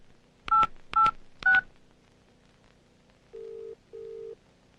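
Three quick keypad tones as a phone number is dialed, followed by two longer steady beeps of the line connecting, in a quiet room.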